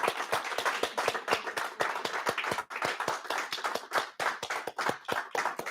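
Round of applause for graduating seniors at a school awards ceremony, brisk and fairly loud clapping from a modest crowd, individual claps distinct in a quick uneven rhythm with a brief dip midway.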